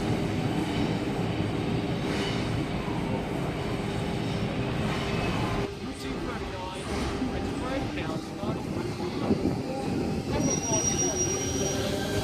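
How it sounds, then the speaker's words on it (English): A Sydney train departs the platform at Hornsby station, its wheels squealing and rumbling steadily and loudly throughout, with a brief dip midway and a faint high tone near the end. "T39 and T80 now departing platform number 4 Penrith via Macquarie University service."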